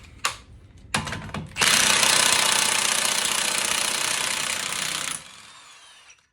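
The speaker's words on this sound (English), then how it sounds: "you gotta give it a shot, the impact, and hopefully I can pull it out." Pneumatic impact wrench loosening axle bolts during a Volkswagen GLI engine replacement, with a couple of short rattling bursts followed by a loud, sustained hammering run of about three and a half seconds that stops abruptly.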